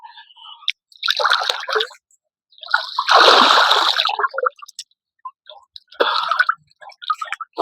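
Bursts of splashing in cold sea water as someone bathes near Santa Clara Port in Northern Samar, several separate close splashes with quiet gaps between them.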